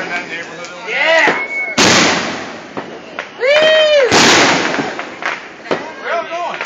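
Fireworks exploding at a neighborhood celebration: loud, close bangs and crackling bursts with whistling rockets, several blasts overlapping in quick succession.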